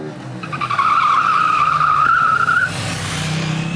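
A KTM 890 Duke motorcycle slides its rear wheel under hard braking, giving a loud, close tire squeal and skid that rises and holds for about two seconds before the engine note takes over.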